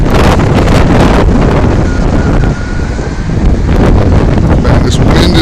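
Powerful blizzard wind in Revere during the 2013 storm blasts straight into the microphone, a loud continuous roar with heavy buffeting and only a brief lull midway.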